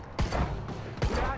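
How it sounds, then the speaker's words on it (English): Two loud bursts of rapid gunfire crack out close by in the video game Quantum Break, about a second apart, with a voice speaking between them. "Stop fucking shooting at us."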